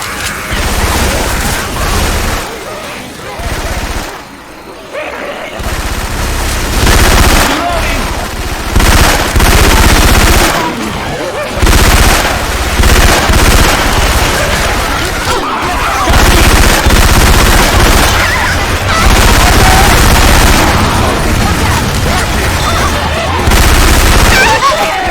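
Rapid Syphon Filter weapon gunfire inside Left 4 Dead 2, loud and nearly continuous automatic bursts with booms and brief pauses, player voices mixed in.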